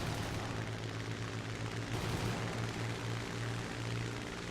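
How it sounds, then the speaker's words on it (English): Rapid gunfire from aircraft in a flight simulator game battle, continuous dense rattling layered over a steady engine drone, loud and unbroken throughout with no voices. "Bullets being fired, nothing being hit."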